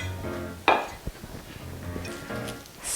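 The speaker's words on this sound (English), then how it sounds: "you notice I'm doing a little more stirring" A spoon stirs vegan, allergy-free pumpkin bread batter in a bowl, with a sharp clink of utensil against the bowl, a few softer knocks and scrapes, and a low background hum, with no talking.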